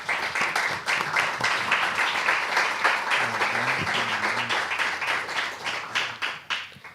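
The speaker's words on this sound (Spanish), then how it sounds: "Así que pido un aplauso para él." An audience applauds a speaker being introduced at a cultural school session, dense steady clapping from many hands filling the room, with a faint low voice murmuring partway through.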